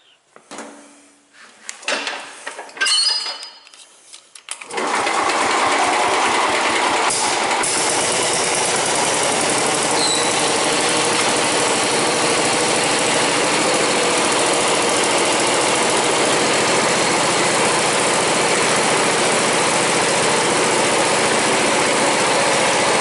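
A Sears garden tractor is fueled and fired up: a few clunks and brief cranking give way to the engine catching and running at a loud, steady idle close by for the rest of the time, with no talk.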